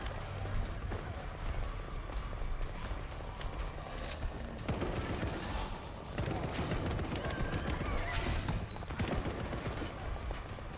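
Gunfire in a twin-stick roguelite shooter game: rapid bursts of shots crackling continuously at moderate level, with occasional sharper impacts and no talk.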